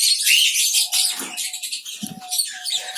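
Diamond doves in a cage give soft, brief chirps and a low coo, close by, with light fluttering and scattered short calls over a few seconds, with no talk.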